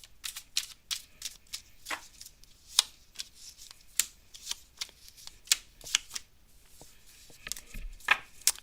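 Tarot cards being shuffled and handled during a live reading, a run of crisp, quick riffling and slapping bursts at an irregular rhythm, close and fairly clear, with no talk over them.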